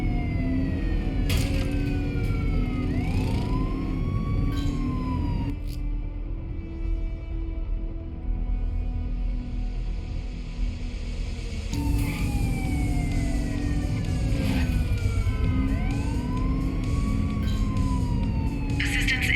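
Police car sirens wail and yelp throughout a chase in a GTA-style video game, loud and close over rumbling engines, the rising and falling tones repeating while voices talk intermittently.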